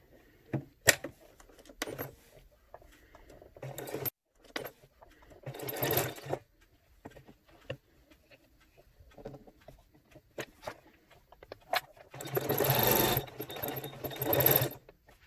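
A sewing machine top-stitches the edge of cloth wipes in short irregular bursts of rapid mechanical chatter, close, with clicks and handling noises between bursts and a longer run near the end.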